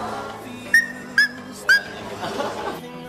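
A 12-year-old boy imitates a dog, giving three short, sharp whimpering yips in quick succession over a low background hum.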